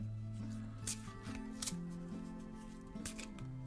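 A tarot card is drawn and slid from the deck during a guided meditation, soft papery slides and light taps sitting faintly over sustained calm music.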